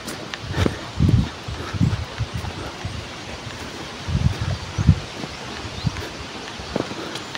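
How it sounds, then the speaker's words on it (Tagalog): Wind blows outdoors with rustling leaves, a steady broadband whoosh with gusty low buffeting bursts against the microphone, no talking. "Nag-iba yung ihip ng hangin mga ka-idol."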